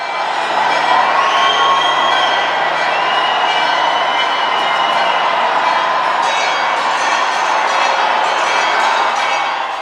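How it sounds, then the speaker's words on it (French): A joyful crowd cheers and shouts inside the Church of the Holy Sepulchre in Jerusalem as the Holy Fire descends, a dense, steady roar of many voices with higher whoops rising above it throughout. "L'attente est rompue par l'exclamation joyeuse de la foule qui acclame la nouvelle descente du feu."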